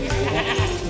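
Baby goats at an old Aryan house in Kargil give a short, close bleat, lasting about a second over a busy background.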